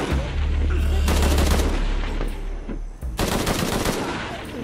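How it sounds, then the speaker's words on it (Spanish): Gunfire in the video game Shadow of the Tomb Raider, loud rapid automatic bursts with a deep boom at the start, a brief pause, then another sustained burst of shots. "lo que hace es disparar al otro"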